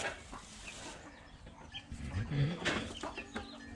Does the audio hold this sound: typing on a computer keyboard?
no